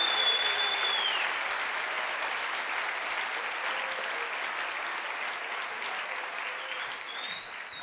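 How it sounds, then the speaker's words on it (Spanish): Sustained applause from a congregation at a church service, honoring the king, a dense even clapping that fills the whole stretch at moderate level, slowly tapering slightly toward the end. "Denle un aplauso fuerte al rey, de veras."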